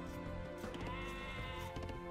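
Sheep in the video game Age of Empires 2 Definitive Edition bleat in a quiet, wavering call that rises and trails off, with a second faint bleat following, heard alone.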